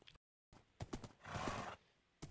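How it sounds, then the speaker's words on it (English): A black horse in the Minecraft video game: hoof clops are followed by a loud, drawn-out whinny, heard close and alone after a brief silence. "Oh wow, there's a black horse here."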